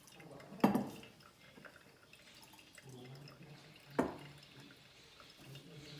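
Coffee drips through a V60 pour-over paper filter into a vessel below, with a couple of soft, distinct drops standing out from a quiet, faintly trickling background.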